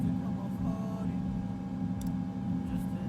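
An aircraft engine cranks in Microsoft Flight Simulator, heard as a steady low droning whir with a faint constant hum, moderately quiet and unchanging throughout.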